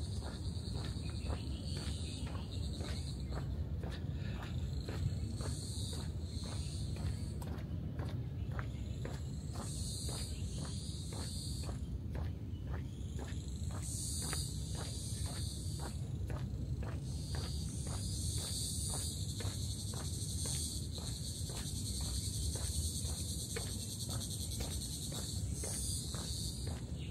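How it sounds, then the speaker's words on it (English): Insects chirp steadily in jungle on the Peak in Hong Kong, dense high trills layered over a rhythmic pulsing of crackly footsteps, with no talking. "I was just listening to the bugs and the birds myself."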